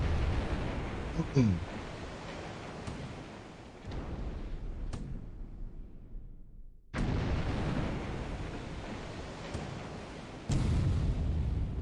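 Gunfire and explosions from a War in the Pacific naval battle video game, with loud, sharp bursts and rumbling booms near 1, 4, 7 and 10.5 seconds over dense noisy combat sound.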